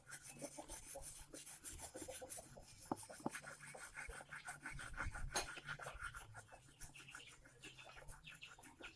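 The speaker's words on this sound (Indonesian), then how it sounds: "sisi dalam, sisi sini, sisi luar kita juga harus mengasahnya ya" Steady rasping strokes of a rubber tapping knife being sharpened, repeated scraping rubs in an irregular rhythm, faint and close, with birds chirping outdoors in the background.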